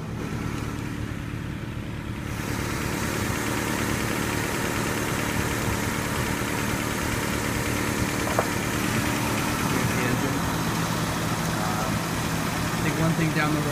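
A 1986 Toyota 4Runner's 22RE four-cylinder engine idles steadily and loud at close range, with a faint ticking running through the rumble and someone talking over it.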